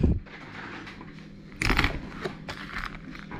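A screwdriver prying apart the plastic shell of a car key fob gives a few sharp crackling snaps and clicks close up, with quiet gaps between the bursts.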